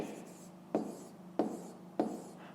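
A pen writing on paper while working a fifth-grade maths exercise, with a soft continuous scratch and three sharper taps or strokes spaced evenly, close and fairly quiet.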